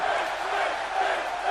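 A wrestling arena crowd at a televised match roars and cheers in a loud, continuous wall of noise through the whole short moment.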